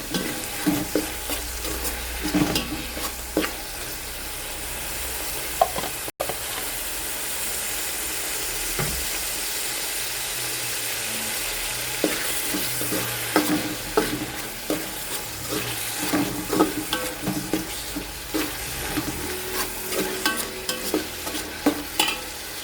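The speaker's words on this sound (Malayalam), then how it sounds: "വെളുത്തുള്ളി, ഇഞ്ചി, പച്ചമുളകും കൂടെ ചതച്ച് തരുവാണ്." Crushed garlic, ginger and green chili frying in a pan, a steady sizzle with repeated scraping and stirring clatter from a utensil, close and continuous throughout, with no talk.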